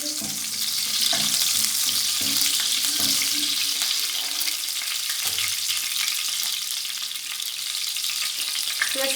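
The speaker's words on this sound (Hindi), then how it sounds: "इसको सिर्फ जो है हम 1 मिनट के लिए फ्राई करेंगे।" Sliced green chillies fry in a pan, giving a continuous bright sizzle with crackling and spattering at an even level, close up and without talk.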